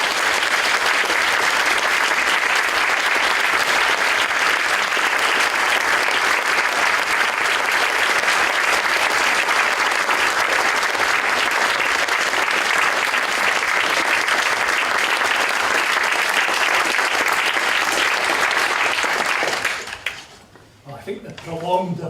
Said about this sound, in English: I think the prolonged applause says it all.